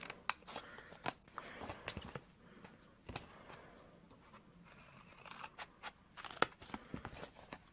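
Scissors cut through card along a score line while a treat box is made, giving quiet, crisp snips and small crunches at uneven intervals close by, with no talking.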